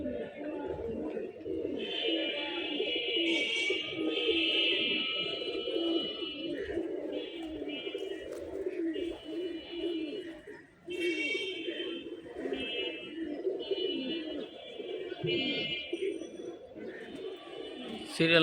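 Pigeons in a loft of Giribaz, Gorra and Army breeds coo in soft, continuous low murmurs, while a high tonal chirping and bird calls come and go above them.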